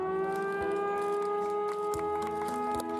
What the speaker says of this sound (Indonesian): Peresmian IJD ditandai dengan penekanan tombol sirene yang dilanjutkan penandatanganan prasasti.